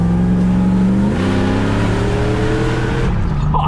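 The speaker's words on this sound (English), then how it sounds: "it's not every day you get to drive a VA cruiser" A VA-series Toyota Land Cruiser engine drones steadily and loudly while driving, its revs rising and settling between gear changes as the vehicle moves along.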